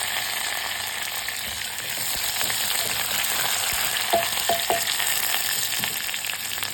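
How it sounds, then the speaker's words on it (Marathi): Garlic and curry leaves fry in oil with a loud, continuous hiss, and a few faint scrapes are heard as they are stirred in the pan. "मग लसूण टाकल्यानंतर कढीपत्ता टाकायचा."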